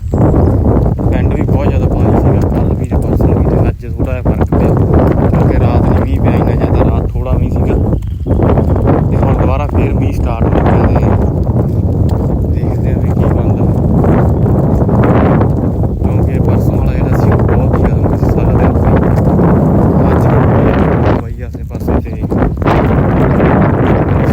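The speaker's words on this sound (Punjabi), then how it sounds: "ਬਹੁਤ ਜ਼ਿਆਦਾ ਤੇਜ਼ ਹਵਾ ਹੋ ਚੁੱਕੀ ਹੈ" Heavy storm wind roars and buffets the microphone nonstop over waterlogged ground, loud and close, nearly drowning out someone talking over it.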